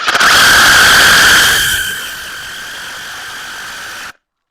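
A DeWalt cordless impact driver drives a screw, a loud high-pitched whirring motor with harsh ratcheting buzz that runs steadily for about four seconds, easing slightly in level after the first stretch before stopping abruptly.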